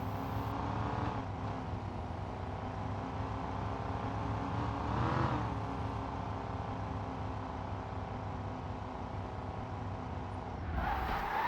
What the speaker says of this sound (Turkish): O BMW'nin motoru dizeldir deyəsən. Yəni sesindən görünür, şaqqıldayır.